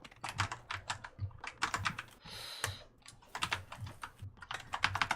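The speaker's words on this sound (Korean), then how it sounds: "키보드 소리 시끄러워." Rapid typing on a computer keyboard during a PUBG game session, close by, with clattering keystrokes in bursts and a short pause in the middle.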